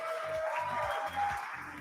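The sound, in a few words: audience applause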